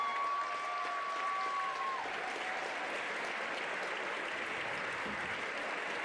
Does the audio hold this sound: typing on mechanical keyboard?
no